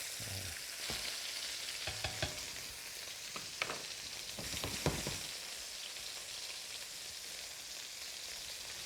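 Teriyaki fish fries in a pan with a constant, faint sizzle close by, broken by a few soft knocks and scrapes from turning the delicate fillet, with no voices.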